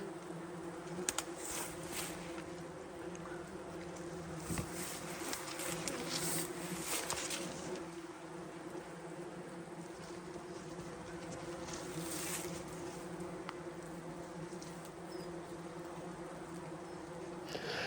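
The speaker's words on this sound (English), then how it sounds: "And as you can see from the next clip that I put up, the wasps were not pleased," Angry wasps buzz steadily around a closed beehive that they cannot get into. The swarm's drone is dense and continuous and holds a constant level throughout, with scattered sharper passes from individual insects flying close by.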